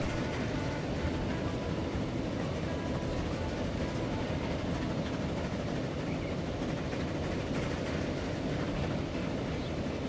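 Train running steadily in the transport simulation game Transport Fever, a continuous dense rumble of rolling wheels and carriages with no breaks, moderately loud and filling the whole stretch without any talk.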